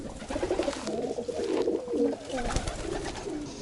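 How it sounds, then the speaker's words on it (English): Pigeons coo in soft, throaty, repeated calls close by where they sleep at a villa under construction in Kenya, with light background noise. "Those are my pigeons here"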